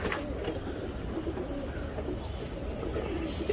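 Pigeons cooing, young birds being readied for a tournament, a steady low murmur of soft coos close by, layered and continuous with no clear pauses.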